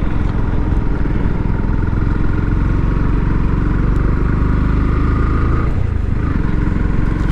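Bajaj Pulsar NS160, a 160 cc motorcycle with a smooth, refined engine, pulls hard while being ridden: a loud, steady close-up engine roar with a brief dip near the end, like a gear change.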